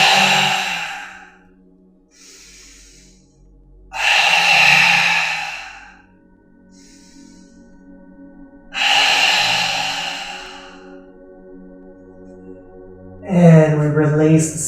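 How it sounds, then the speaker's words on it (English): Three long, forceful open-mouth exhales during a yoga breathing practice, about four seconds apart, each a breathy rush of air, close and fairly loud over soft sustained background music. "Lifting the sternum high, we take 3 exhales for an open mouth"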